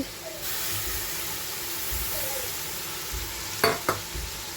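Spinach with tomato, chili, spices, rice flour and crushed ginger being stirred in a frying pan, a steady close sizzle with a couple of sharp scraping clinks near the end.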